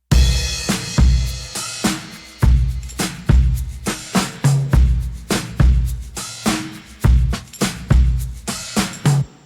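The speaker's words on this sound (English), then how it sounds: "So together, chorus drum sounds like this." Layered, heavily pitched-down drums processed through an Akai S950 sampler emulation thump in a steady groove, deep booming kicks under crisp snare and hat hits, loud and upfront with no voices.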